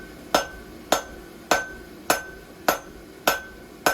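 Steady hammer blows on hot half-by-one-and-a-quarter steel bar stock, forged on an anvil while shaping the frog of a steel horse hoof template; seven sharp ringing strikes land evenly about every 0.6 seconds with no voices.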